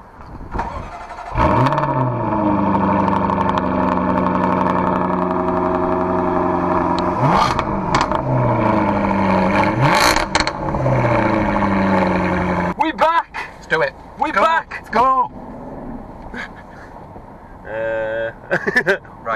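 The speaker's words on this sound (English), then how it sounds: "We're just going to switch the engine on and let you have a listen to the exhaustage." A car engine is switched on and settles into a steady, rumbling exhaust note with a few swells in revs, with a person talking over it before quieter moments and further speech near the end.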